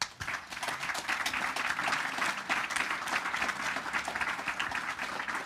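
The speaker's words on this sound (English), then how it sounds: "maybe a round of applause for our panelists." A conference audience gives a full round of applause for the panelists at the Modular Summit's Chisel stage. Many hands clap in a dense, sustained wash that holds steady for several seconds.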